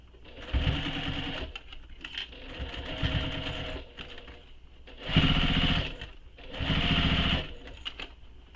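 A sewing machine stitches a handmade satchel in four bursts of rapid, rattling whir, each lasting a second or two and separated by short pauses, close by and fairly loud.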